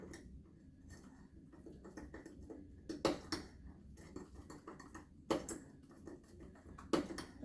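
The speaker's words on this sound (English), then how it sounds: "make sure you mix all 6 of these ingredients up really well" A spoon stirring chocolate brownie batter in a mug gives soft, quiet scraping and a few sharp ceramic clinks spaced a couple of seconds apart.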